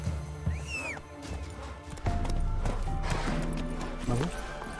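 A horse in The Witcher 3 gallops with rhythmic hoofbeats and lets out short neighs amid game sounds, with someone talking over it.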